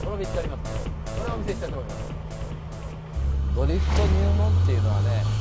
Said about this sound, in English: We'll first use the e-brake to go sideways.